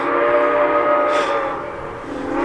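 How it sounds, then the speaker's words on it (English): A train passes nearby, its steady tonal horn-like drone ringing over a rumbling wash of noise for a couple of seconds, with no one talking. "there's a train going by."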